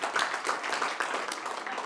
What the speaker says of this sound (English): that will be the end of the applause for the night